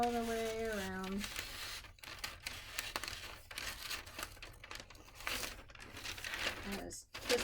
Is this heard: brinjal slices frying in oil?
no